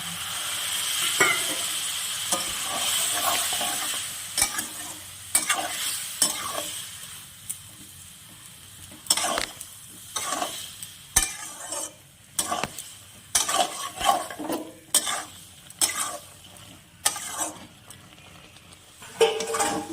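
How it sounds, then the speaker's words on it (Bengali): Spice paste loosened with a little water is sautéed in a pan for a prawn and potato curry, giving a soft background sizzle broken by repeated scraping and stirring strokes of a spoon against the metal, with irregular clinks. "আমি এখানে সামান্য একটু জল দিয়ে মশলাটাকে কষিয়ে নেব।"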